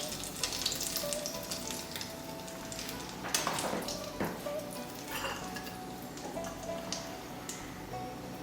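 Chicken for Thai basil chicken fries in a pan with a steady, dense sizzle throughout, punctuated by occasional louder crackles and stirring scrapes, close and continuous with no talking.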